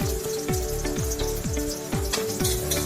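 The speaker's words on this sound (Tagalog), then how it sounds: "maglagay na tayo ng vegetable oil. Unahin natin ilagay ang sibuyas mga master." Onion frying in vegetable oil in a pan, a steady close sizzle broken by repeated bursts and crackles as the pieces hit the hot oil, with no talk.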